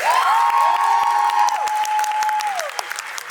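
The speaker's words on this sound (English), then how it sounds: "Give him a big round of applause." An audience at a dance competition claps steadily throughout, while sustained musical tones ring out over the applause.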